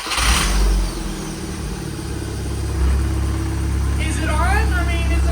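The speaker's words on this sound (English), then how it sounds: "Car is mostly back together now. First big startup." A car engine, just rebuilt and mostly reassembled, cranks, catches and runs with a steady low rumble that swells briefly into revving, while people talk nearby throughout.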